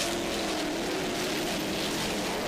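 A 46-foot Cigarette offshore racing powerboat with twin 1,000 hp engines roars past at speed during an offshore Superboat Grand Prix race in Miami, a loud steady engine drone mixed with rushing water.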